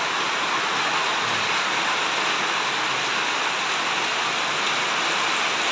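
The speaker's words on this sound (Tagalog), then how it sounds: "nabutan ako ng ulan" Steady rain falls in a dense, even hiss with no breaks, loud and close, as a heavy downpour arrives over a house in the Philippines; no one speaks over it.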